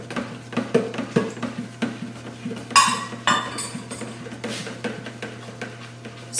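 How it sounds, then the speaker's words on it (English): A spoon stirring prickly pear lemonade, with sugar dissolving in the juice, clinks and taps repeatedly against the side of a container in a quick, uneven rhythm, close and fairly loud, with no talk. "Still stirring to make sure that that is dissolved"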